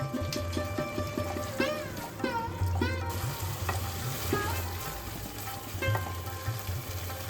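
Tomato paste with salt frying in a pan for a paneer kaliya, a dense sizzle with repeated spoon scrapes and knocks while it is stirred, accompanied throughout by steady background music.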